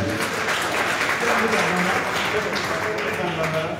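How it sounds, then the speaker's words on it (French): Audience applause at a training session for social media actors, a dense, steady wash of clapping from a crowd that holds at an even level throughout, with a voice speaking over it. "comment ne pas applaudir encore une fois ce monsieur"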